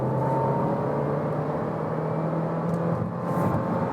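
Steady engine drone and road rumble from a VW Golf 8 R-Line 1.5 TSI accelerating in third gear at about 80 km/h, heard from inside the cabin with a faint rising whir over continuous tire noise.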